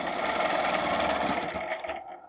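A sewing machine runs continuously while stitching an arc in a quilt design, a steady close whir that fades out near the end.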